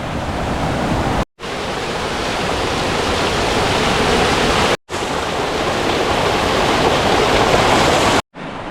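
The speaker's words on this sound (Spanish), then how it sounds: "Esta fuente le mete agua a la poza y cascada de Huerto Malillo." Spring water pouring into a pool and small waterfall at Huerto Malillo beside the Guadalevín river in the Sierra de las Nieves, a steady, loud, close rushing broken by two brief silent cuts.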